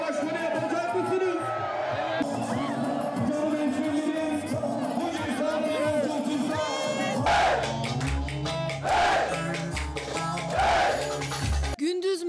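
A crowd of young people cheers and whoops at an evening Mansur Yavaş election rally in Ankara, with loud shouting voices and festive music pulsing through the later part.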